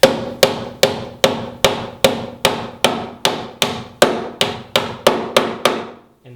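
A hammer strikes metal on a car rocker panel to bend it down, fifteen sharp, ringing clangs in a steady rhythm, each decaying before the next, loud and close with no talk.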